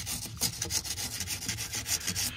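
A scrub brush works over a tire in rapid, uneven back-and-forth strokes, producing close, bristly scratching bursts in a busy rhythm without any voices.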